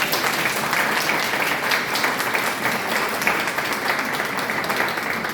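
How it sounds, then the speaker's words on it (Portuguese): An audience at a talk-session gathering claps in steady, dense applause that lasts the whole stretch, moderately loud with no speech over it. "Palmas para ela, né"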